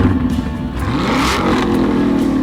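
A car engine with a performance exhaust revs up loudly and growls, its pitch climbing and falling in a single close, continuous burst, used as a sound effect in a radio ad.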